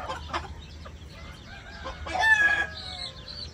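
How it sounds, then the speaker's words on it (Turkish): White Ligurian (Leghorn) chickens cluck and squawk in a coop, scattered short calls and a brief crow-like burst over low background murmur, nearby and moderately loud, with a faint voice underneath. "Ligurian tavuklarımız var."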